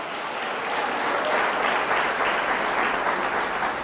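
Church congregation applauding the Messiah, a continuous, evenly sustained burst of many hands clapping with no talk over it.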